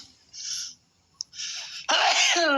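A single sharp, loud sneeze bursts out near the end, preceded by a couple of short breathy intakes and a quick click, close to the listener with no talking over it.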